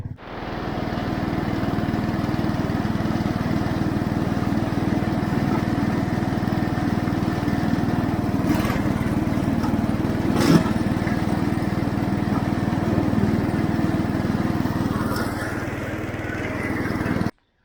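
An IH Cub Cadet 149 lawn tractor runs close by while mowing on a farm, its engine a loud, steady drone with a constant mower whine and a few brief knocks, before cutting off abruptly at the end.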